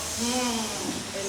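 A person makes a sustained hissing sound with their voice, imitating a snake, one steady breathy hiss lasting over a second.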